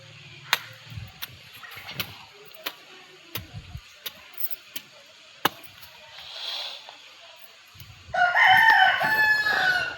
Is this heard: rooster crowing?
yes